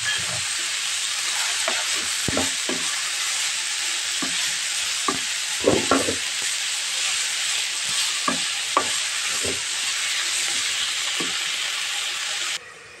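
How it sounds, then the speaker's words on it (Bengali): Banana flower cooking with salt, turmeric and boiled spice masala, frying in a pan with a steady, loud sizzle while a spoon scrapes and stirs in irregular knocks throughout, the hiss cutting off sharply at the very end. "দেখো বন্ধুরা, আমার মশলাটা কি সুন্দর ভাজি হচ্ছে।"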